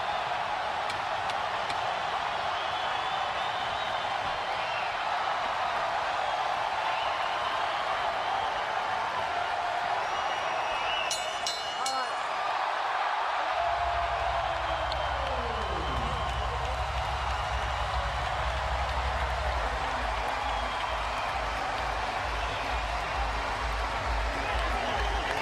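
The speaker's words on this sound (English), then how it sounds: "The crowd loves it. They're on their feet in Macau." A boxing crowd in Macau cheers and applauds on its feet, a dense, continuous roar filling the arena, with a deep low rumble joining partway through and lasting to the end.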